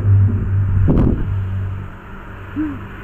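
Cars on a road right beside an equine mediation centre, one vehicle swelling past loudly over about a second then fading into a low steady rumble of traffic.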